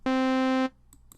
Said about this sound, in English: A simple sawtooth going through a low-pass filter.